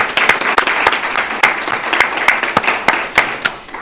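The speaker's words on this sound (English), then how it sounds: "Could you give yourselves a nice round of applause?" An audience at a school district superintendent's recognition evening applauds itself with steady, moderately loud clapping, individual sharp claps standing out throughout the few seconds.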